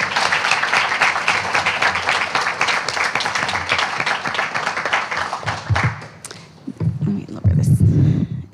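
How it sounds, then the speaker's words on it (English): A book event audience claps loudly and steadily for about six seconds, then the applause dies away into a few thumps and a voice close by. "Let's give another round of applause for Victoria Chang."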